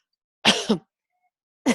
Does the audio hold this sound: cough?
yes